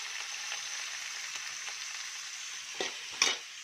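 Onions and ivy gourd sizzle and crackle steadily in hot oil with salt, with a few louder pops and stirring scrapes near the end.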